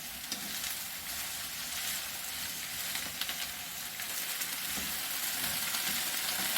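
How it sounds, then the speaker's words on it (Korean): Onions and vegetables stir-fry in a pan for japchae, giving a steady, close sizzle with light crackles and stirring scrapes running continuously, no one talking. "양파 같은 거, 야채 같은 거 볶는 시간이 많이 걸리지 않습니다"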